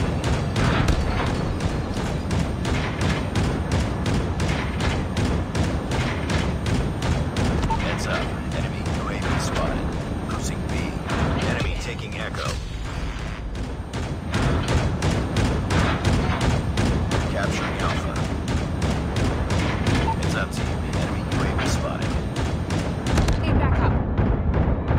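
VTOL air strike in a military shooter video game, with a relentless rapid stream of gunfire and heavy booming explosions, loud and continuous, easing briefly midway before resuming, under intermittent radio-style talk.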